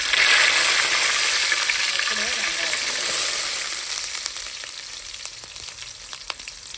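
Mustard seeds, fenugreek and curry leaves tempering in hot oil for a mackerel fish curry: a loud, close hiss of sizzling that slowly softens, with scattered crackles and pops coming through toward the end.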